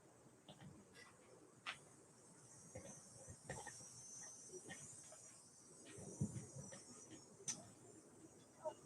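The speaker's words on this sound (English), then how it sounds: "I would have missed out on the sounds of the insects that are singing around here." Insects sing outdoors near a temple by a lake in a soft, steady high-pitched chorus of chirps, faint and continuous, with occasional small ticks and knocks nearby.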